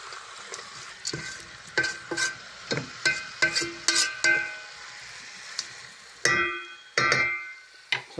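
Chicken gizzards sautéing in a pan with browned onions, crisp sizzling broken by repeated scraping and stirring clatters of a utensil at an uneven rhythm, close and fairly quiet.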